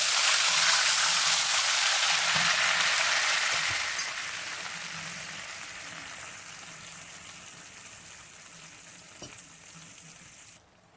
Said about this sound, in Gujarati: થોડુંક પાણી એડ કરીશું